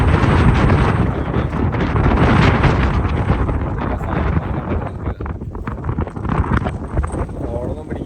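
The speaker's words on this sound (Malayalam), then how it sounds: "ഭയങ്കര കാറ്റ്." Strong wind blowing across a hilltop covered with wind turbines in the Kodaikanal hills, a loud, constant roar of gusts buffeting the microphone.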